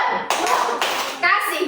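Children in a classroom clap the rhythmic 'tepuk wow' chant. Sharp bursts of clapping come in groups while young voices call out over the claps, with a lively, loud and close sound.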